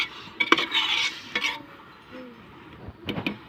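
Biryani masala powder is sautéed and stirred in oil on a wood-fired stove for mushroom biryani, with a soft sizzle and clinks of a spoon against the pot in short bursts.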